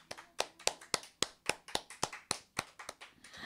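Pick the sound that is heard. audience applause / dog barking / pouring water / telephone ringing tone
audience applause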